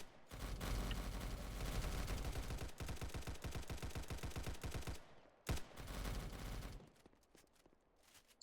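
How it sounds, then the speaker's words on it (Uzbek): Sustained rapid gunfire inside a Roblox game set at the San Diego border, dense bursts of automatic shots rattling almost continuously, briefly breaking off, then a final stretch that thins out and fades. "Qayerdadir normalniy otishma jo'g'yapti bor"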